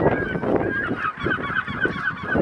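Seagulls calling in a frenzied crowd during an attack, loud overlapping honking, squawking cries repeating without pause from many birds close by.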